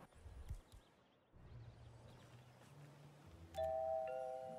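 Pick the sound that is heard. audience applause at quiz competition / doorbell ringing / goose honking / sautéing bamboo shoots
doorbell ringing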